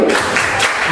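Schoolchildren at an Indonesian elementary school Ramadan program clap in a quick rhythmic burst during a group chant, a short loud patter of many small hands with voices mixed in.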